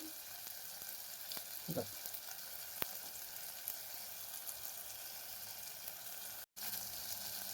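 Homemade black-masala chutney frying with cooked spinach in a pan, a continuous soft sizzle with a few faint clicks and a stirring scrape, quiet and steady with a momentary dropout near the end.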